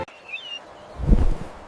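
A kestrel call sounds as a couple of thin, high sliding notes early on, followed by a louder low thump or rustle of movement near the end.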